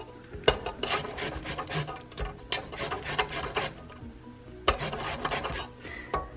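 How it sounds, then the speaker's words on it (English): A lemon's yellow peel is grated for zest, giving rhythmic rasping strokes in short bursts with brief pauses between them, close and fairly loud, with no talking. "You see, I'm just getting the yellow, and you can see here, look at all that beautiful lemon zest."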